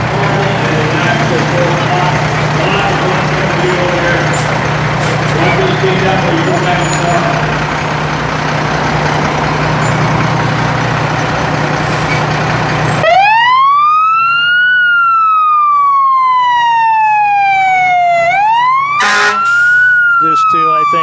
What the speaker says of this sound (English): a couple of their smaller tankers, one of their ladder trucks, and then their largest, I believe that's one of their larger tankers on the back end